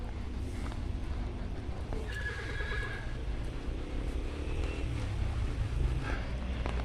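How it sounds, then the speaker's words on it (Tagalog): Outdoor ambience in Baguio City, Philippines, with a horse's whinny rising briefly over steady background rumble and faint hoof clopping. "ayan yung mga kabayo."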